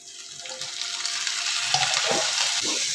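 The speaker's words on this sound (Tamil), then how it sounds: "வெங்காயம் மிளகா நல்லா வதங்கிடுச்சு" Steady sizzling of onion and chili frying in a hot pan, close and moderately loud, with occasional crackles and stirring sounds.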